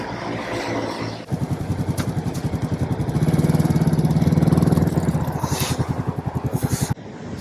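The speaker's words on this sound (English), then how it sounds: "Level 1, the motorcycle." A motorcycle idling close by with a rapid, even engine pulse, swelling louder as it rolls over a phone on the ground, with a faint scrape, then cutting back near the end.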